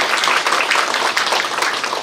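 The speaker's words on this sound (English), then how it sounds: "If everyone can please give her a round of applause" An audience at a Hmong community scholarship ceremony in Oshkosh, Wisconsin claps for a recipient, a steady dense round of applause from many hands filling the room.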